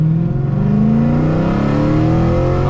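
A Mercedes C63 AMG W204 engine revs up loud and close, its deep rumble climbing steadily in pitch without any talking.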